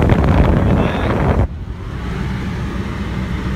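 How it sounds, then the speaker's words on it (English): Steady broadband blowing of car air conditioning on a 100-degree day, loud and continuous, with a sharp drop in level partway through as the fan setting changes, then a softer steady rush. "The AC is so nice in this heat right now."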